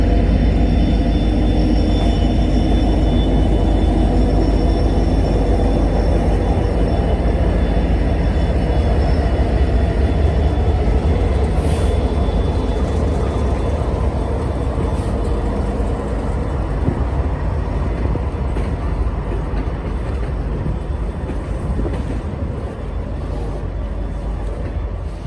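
A heavy Norfolk Southern eastbound freight train with distributed power units rumbles past near a tunnel on a steep mountain grade, producing a loud, constant low roar and rolling clatter that holds steady for the whole stretch.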